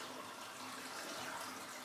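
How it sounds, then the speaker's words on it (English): Dirty water drains from a spa in a steady, even rush of running water that holds at a constant level throughout, with no voices. "unleash the dirty water through the drain"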